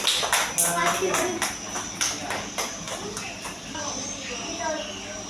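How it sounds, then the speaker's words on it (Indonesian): Children clap in a classroom lesson, a quick burst of sharp, uneven hand claps that fades after a few seconds as voices continue over and around it. "boleh tepuk tangan"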